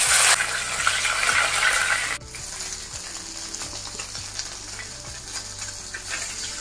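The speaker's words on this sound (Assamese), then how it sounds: "এনেই আগতে নিমখ হালধি সানি থোৱা আছে এতিয়া এইখিনি ভাজি লওঁ" Turmeric- and salt-marinated fish frying in hot oil in a kadai, a loud dense sizzle that drops to a steadier, quieter crackle partway through, with occasional spatters and no talking.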